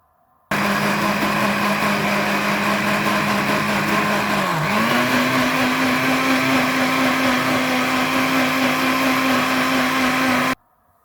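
A kitchen blender whirs through a smoothie with lemon juice added, running loud and steady for about ten seconds. Its motor pitch dips briefly midway, then settles at a slightly higher, even drone before cutting off.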